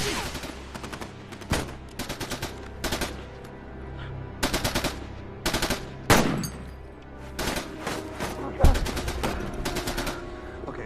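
Video game gunfire in rapid, repeated automatic bursts of sharp shots that are loud and close, with a few heavier single blasts mixed in.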